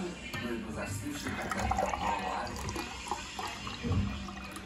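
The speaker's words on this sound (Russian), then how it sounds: "я сейчас набрал воду, целый стакан воды" Water is poured into a drinking glass indoors, a close splashing and gurgling stream that swells and eases over several seconds, with a voice talking faintly at moments.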